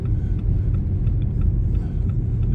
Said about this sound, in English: car slowing down even more.